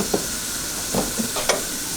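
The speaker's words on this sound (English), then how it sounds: "So let me stir this up first." A spoon stirs homemade spaghetti sauce in a pot, giving a few soft, brief scraping swishes spaced apart over low kitchen background sizzle, close and fairly quiet, with no talking.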